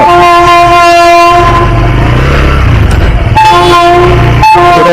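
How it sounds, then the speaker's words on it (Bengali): A train engine passes close by on a railway line, sounding a loud sustained horn in two blasts over the rumbling roar and clatter of the passing locomotive. "ট্রেন এখানে হর্ন মারছে দেখো ট্রেনের ইঞ্জিন যাচ্ছে"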